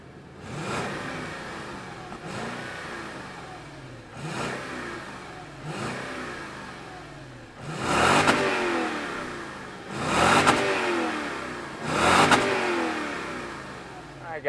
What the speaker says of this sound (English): let's fire this LX 570 up and hear what it sounds like